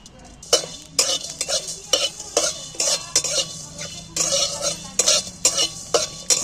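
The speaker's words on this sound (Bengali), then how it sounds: "আমি এখানে কড়া বসিয়ে দিয়েছি, শুকনো খোলা ভেজে নিচ্ছি।" Dry whole spices, including coriander seeds, rattle and scrape in a wok as they are dry roasted, with repeated sharp bursts of scraping in an irregular rhythm, close and fairly loud.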